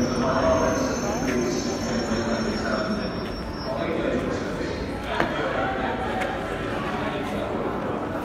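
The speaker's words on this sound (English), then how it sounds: "Northern Line train is approaching." A London Underground Northern Line train approaches a platform at Leicester Square, giving a continuous rumble with faint high wheel squeal and clatter, while voices murmur in the station.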